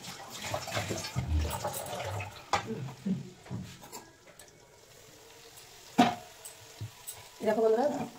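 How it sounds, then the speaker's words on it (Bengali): Vegetables fry with spices in a covered pan, heard as soft sizzling broken by irregular clanks and scraping stirs, with a brief voice-like sound near the end. "ঢেকে কিছুক্ষণ ভেজে নিয়েছি, সবজিগুলি মশলার সঙ্গে ভাজা হয়ে গেছে"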